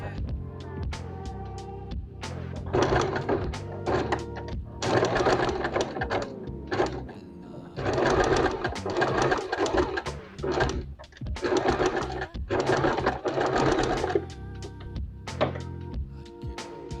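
A sewing machine stitches along the edge of a cradle mattress in several loud bursts of rapid needle chatter, separated by short pauses, with no talking.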